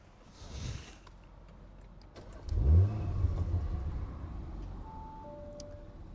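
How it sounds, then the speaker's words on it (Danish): An Audi RS5 Sportback engine (450 hp) cranks and fires up, rises in a short rev, then settles into a steady idle rumble. "jeg skal jo starte bilen op"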